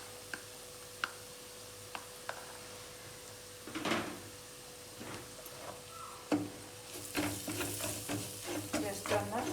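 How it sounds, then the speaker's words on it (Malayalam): Mackerel curry with fish masala, fenugreek powder and Kashmiri chilli powder being stirred in a pan, with scattered scrapes and ticks early on, then a busier stretch of stirring and soft sizzling toward the end. "ജസ്റ്റ് ഒന്ന് ഇളക്കി കൊടുക്കും."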